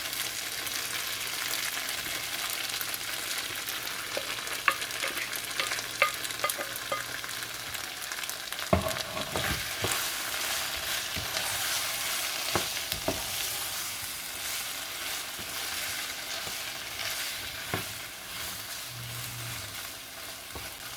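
A stir fry sizzles loudly and steadily in a pan as the remaining sauce goes in, with occasional stirring clinks over the constant hiss and no talking.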